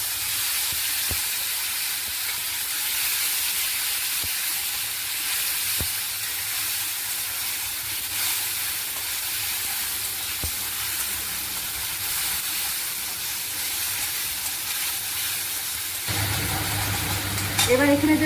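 Grated tomato hits hot oil spiced with asafoetida while cooking a chana dal dhoka curry, giving a steady close frying sizzle and hiss that runs throughout, with a louder burst near the end.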